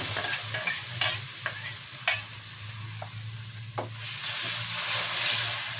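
A spoon scrapes and clanks in a pan several times as thick tomato puree is stirred in, followed by rising sizzling as it fries.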